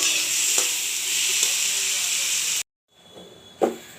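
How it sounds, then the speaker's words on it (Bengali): Onions frying with salt in a pan, a loud bright hissing sizzle that runs steadily, cuts out abruptly, then resumes more faintly with a sharp clink. "একটু নুন দিয়ে দিচ্ছি যাতে তাড়াতাড়ি পেঁয়াজটা ভাজা।"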